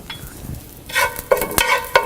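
Curry leaves drop into hot oil already holding mustard seeds and dried red chillies for a mushroom-egg thoran, bursting into sharp crackling sizzles after a quieter start, close and fairly loud.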